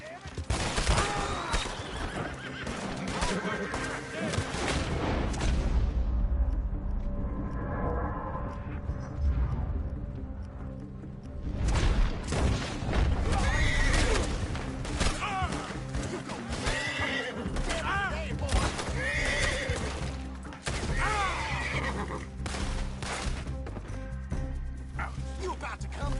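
A horse in the Red Dead Redemption 2 video game lets out loud, shrill neighs and whinnies, mixed with clip-clopping hooves, dog barks and in-game voices talking.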